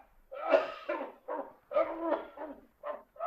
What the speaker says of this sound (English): I heard him cough. Did you hear that cough?